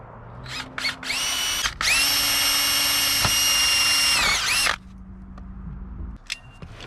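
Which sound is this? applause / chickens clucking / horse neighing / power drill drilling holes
power drill drilling holes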